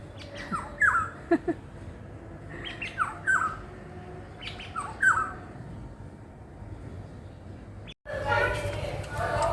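A yellow bird with a black head gives several short, sharp squawking calls in a spaced series, moderately close. A louder burst of rustling noise follows near the end.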